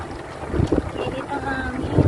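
Strong, hot wind buffets an outdoor spot in Saudi Arabia, a rough rumbling gust battering the microphone in short bursts, loud and close, with a voice talking underneath.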